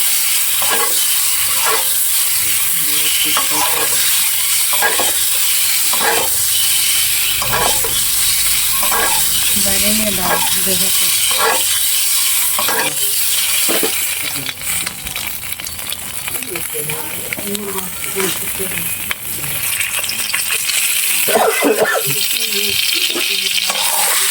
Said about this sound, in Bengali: এখন আমরা ডিম ছেড়ে দেব,